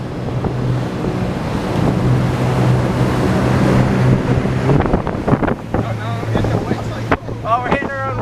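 A motorboat out on open water runs back across its own wake, giving a steady engine drone with wind and water rush, then bumpier splashing and slapping as the hull hits the waves; a voice is faintly audible.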